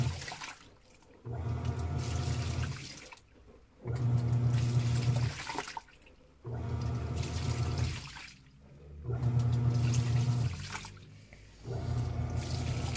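A Panasonic Ag+ 16 kg washing machine fills with water in repeated surges, each rushing, gushing burst lasting a couple of seconds and separated by brief quieter pauses, close and steady with no speech.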